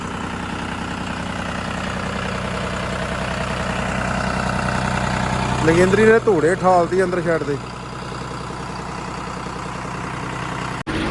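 A heavy John Deere 5210 turbo tractor engine idles with a steady low rumble throughout while someone speaks briefly over it midway.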